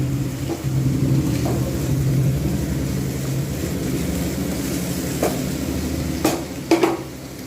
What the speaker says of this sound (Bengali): বেশ কিছুক্ষণ ভালো করে ভেজে নিয়ে তারপর লঙ্কা গুঁড়ো, হলুদ গুঁড়ো দেবো